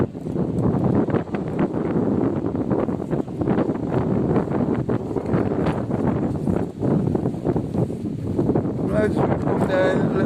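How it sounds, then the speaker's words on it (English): Gusty wind buffets the microphone on Benidorm beach, a loud, rumbling, continuous roar with uneven surges throughout, while a voice can be heard faintly beneath it. "we've got a bit of wind back"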